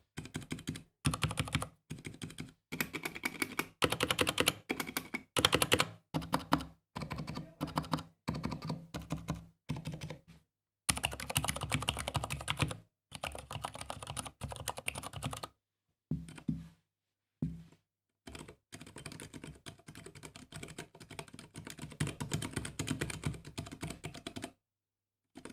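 Mechanical keyboards fitted with silent tactile switches are typed on in quick, dense bursts of soft clacks and thocks, stopping briefly between runs; the sound is close and fairly quiet with no voices.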